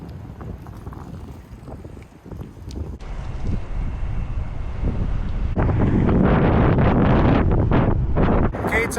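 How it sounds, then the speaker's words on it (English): Strong, steady wind roars and buffets the microphone while cycling a scenic trail on a sunny 50-degree day, growing louder and harsher after the midpoint and nearly continuous throughout. "you can probably hear it's very windy, so the wind is making it a little bit harder"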